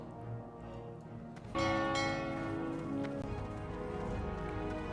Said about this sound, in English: Seven o'clock bells are chiming in Stormwind.